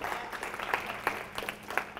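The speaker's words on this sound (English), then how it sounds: "Give another obligatory round of applause for Anthony for," An audience at a convention applauds in a brief burst of scattered, uneven clapping with distinct individual claps.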